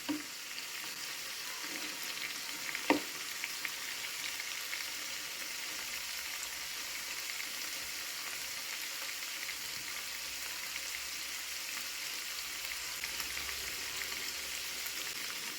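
Fish coated in masala fries in a pan with oil, giving a steady, even sizzle and crackle throughout, with one brief louder clack near the start and no voices.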